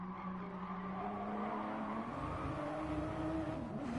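A GR Supra race car in GT Sport braking hard into a turn, with a steady engine drone and rising tire squeal as the car slows, loud and continuous throughout.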